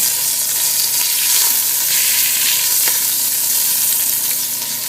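Oxtail sears in a pan with a little red wine at the base, giving a steady, loud, continuous sizzle and crackle that stays even throughout, with no voices over it.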